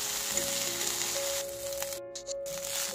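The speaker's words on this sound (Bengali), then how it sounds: "সামান্য লবণ অ্যাড করে শাকটা ভালোভাবে ভেজে নিতে হবে" Fenugreek greens with garlic and salt frying in mustard oil, a steady close sizzle and crackle running the whole time with a few soft stirring scrapes.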